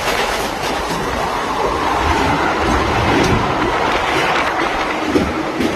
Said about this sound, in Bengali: আমরা ট্রেনে আছি